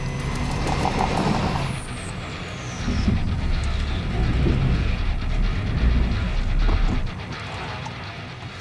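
A car creeps slowly down a steep off-road bank in Victoria's High Country, with a steady low rumble of engine and tyres crunching over rough ground, plus scattered knocks and creaks.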